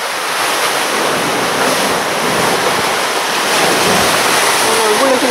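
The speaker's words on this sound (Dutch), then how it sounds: "Wat een woelige zee." Rough open-ocean surf with waves of about 3 metres, seen from a boat on an ocean crossing, roars steadily and loudly, mixed with heavy wind buffeting the microphone, a continuous dense wash of noise throughout.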